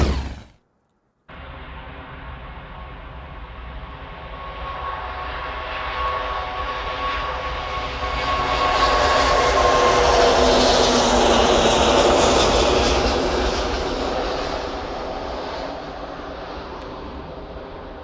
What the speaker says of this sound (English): Should we have a look at the A380 again?